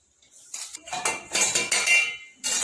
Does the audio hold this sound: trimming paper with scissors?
no